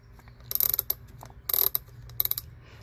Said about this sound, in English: So what I used here was a regular deep socket, okay, 12 millimeter deep socket.